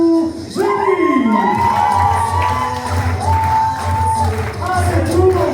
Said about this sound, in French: Un tonnerre d'applaudissements pour Julie.